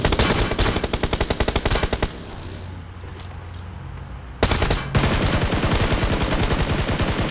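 Rapid automatic gunfire in the mobile battle royale game PUBG Mobile, loud and close, with bursts of sustained firing, a short pause of quieter background, then another long rattling burst.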